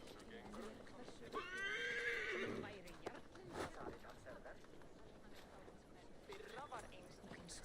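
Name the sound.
horse neighing, from video game Assassin's Creed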